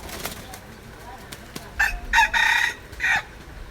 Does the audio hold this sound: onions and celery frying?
no